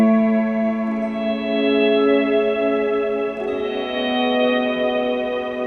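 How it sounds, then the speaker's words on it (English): Ambient electric guitar swells drenched in long reverb decay and repeating delay, sustained chords fading in smoothly and blooming into a dense wash, with a new swell entering about halfway through, loud and alone. "a trick behind doing some cool swells is longer decays. So longer decays from your reverb, and then longer repeats from your delay"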